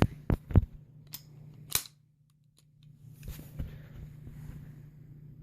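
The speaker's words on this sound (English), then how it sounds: "So right here, you have the slide catch." Sharp metallic clicks and clacks from handling a SIG Sauer P226 pistol and its slide catch, a few crisp close snaps followed by quieter fumbling.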